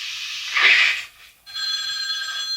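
A telephone rings in a house during a scene of the horror film Friday the 13th Part 2, with a hissy burst before it and a steady, buzzing electronic tone afterward.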